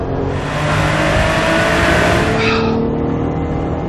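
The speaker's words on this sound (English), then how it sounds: "Revs are building, the cams are phasing. What an engine! I love that sound." A sports car engine revs hard and loud, pitch climbing steadily before easing off, with a rich mechanical roar throughout.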